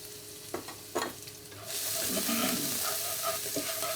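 Chopped garlic and ginger drop into a hot pan after a couple of quiet knocks, and a sudden loud, steady sizzle takes over and continues to the end.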